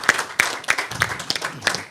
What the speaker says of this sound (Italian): un applauso finale